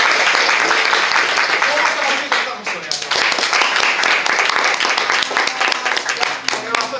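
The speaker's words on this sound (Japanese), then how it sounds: "拍手お願いします。" An audience at a Japanese oogiri comedy contest claps in a dense burst of applause that stays busy for several seconds, with voices talking and laughing over it.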